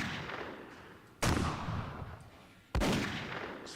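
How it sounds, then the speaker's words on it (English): Two sharp, loud explosions burst in a video game, each with a lingering rumbling decay, over a background of faint game noise and no talk. "Explosions."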